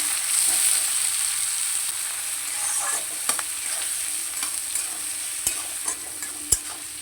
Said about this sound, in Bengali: পেঁয়াজটা দিয়ে ভালো করে লাল লাল করে ভেজে নেব